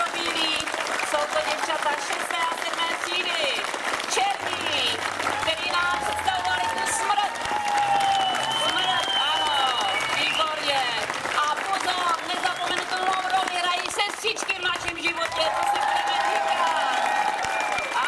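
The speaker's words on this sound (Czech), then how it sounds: "Poprosím potlesk pro Bílí, jsou to děvčata 6. a 7. třídy" A school performance audience applauds the girls of grades six and seven, sustained, dense clapping running for many seconds with crowd noise and voices underneath.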